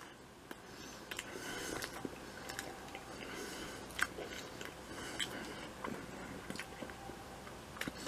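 Someone chewing a bite of sweet potato crust BBQ chicken pizza, soft close mouth sounds with faint crunches and wet squishes, quiet and continuous.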